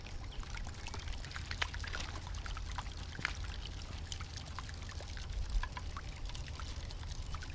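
A scoop of river gravel and sand pours into a gold getter sitting in river water, giving a steady gurgling, trickling wash with scattered small clicks of stones, close and moderate in level, with no voices.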